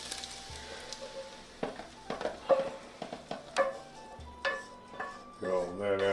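Metal spatula scraping and knocking against a skillet as chicken fried rice is moved into a container, a series of uneven scrapes and clinks over a soft background sizzle, with a few clattering pot sounds toward the end.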